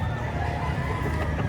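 Chickens at a Saturday market in Quezon cluck and crow steadily throughout, mixed into a dense, busy crowd murmur that never drops away.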